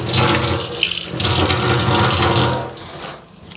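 Tap water runs steadily into a sink basin while it is being cleaned, a continuous broadband splashing that stays loud for most of the stretch before easing off near the end.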